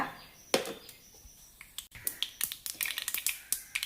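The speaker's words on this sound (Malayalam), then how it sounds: "കടുക് ഉലുവയും പൊട്ടിയിട്ടുണ്ട്" Mustard and fenugreek seeds spluttering in hot coconut oil, quiet at first, then a fast run of sharp popping crackles that grows denser toward the end, close by.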